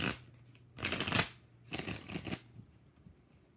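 Two bursts of tarot card shuffling, each about half a second long and close up, with a brief pause between them and a low hum running underneath.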